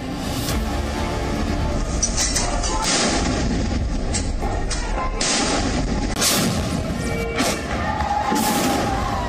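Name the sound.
artillery cannon gun salute firing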